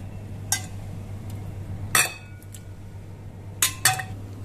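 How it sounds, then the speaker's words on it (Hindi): Cooked green pea dal being scooped from a pressure cooker into a serving bowl, with a few sharp metallic clinks of a ladle against the vessels, spaced apart over a steady low hum. "इसको हम सर्विंग बाउल में निकाल लेंगे।"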